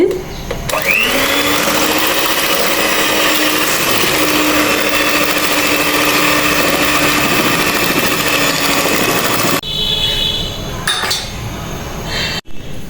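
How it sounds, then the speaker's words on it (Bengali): An electric mixer whirs steadily as it beats sweet potato cake batter made with ghee, a loud, even motor whine lasting about nine seconds before cutting off, followed by a few light clinks of the bowl. "এবার আমি এটাকে ভিট করে নিব ভিট করছি"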